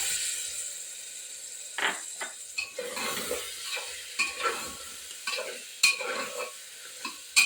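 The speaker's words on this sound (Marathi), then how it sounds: "एक मिनिट मी परतून घेते मसाल्यामध्ये बटाटा" Diced potatoes sauté in masala in a pan for a ghevda bean curry. A spoon scrapes and knocks against the metal in irregular strokes over a soft, steady sizzle close by.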